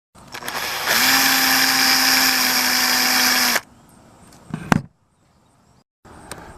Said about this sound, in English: I'm going to drill probably like a 1/8 or smaller hole right where the primer and the shell used to be